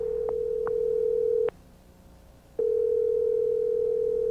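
A telephone dial tone, a loud steady hum near the mic, broken by a brief gap of about a second with small clicks before it resumes.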